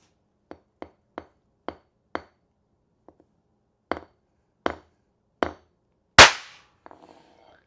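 A large rifle primer, not the Magnum type, is smashed on concrete to fire it: a string of sharp, isolated cracks and taps with pauses between them, ending in one louder, fuller pop that rings briefly.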